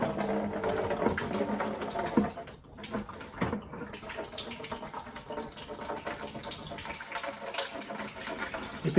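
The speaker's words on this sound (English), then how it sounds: "now you just slowly turn it over and pour it" Water is poured slowly from a Model T6633 Brown's gas generator into a bucket, a steady low splashing gush that continues without break and is quite faint.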